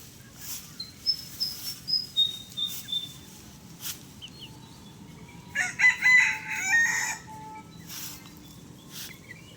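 Chickens cluck near a rural home while they peck at harvested paddy during rice season. Short clucks come first, then a loud rooster crow rises nearby, with soft background ambience throughout.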